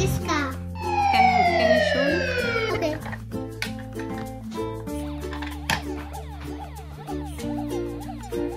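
A toy police car gives off a loud electronic siren wail with falling sweeps, followed by a steady musical melody from the toy, with a voice chattering faintly in the background.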